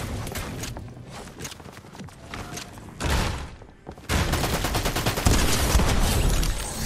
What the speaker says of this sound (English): He's like shooting me through the wall